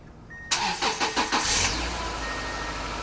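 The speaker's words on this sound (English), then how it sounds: "now I'm going to turn the car on." A car engine cranks with a few quick rhythmic turns of the starter, then catches and settles into a low, steady idle, heard fairly close.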